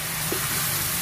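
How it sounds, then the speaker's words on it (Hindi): Tadka spices sizzle in hot oil for curry pakora, a steady soft frying hiss heard alone over a brief moment. "मुझे बड़ा मजा आता है तड़का लगा रहे"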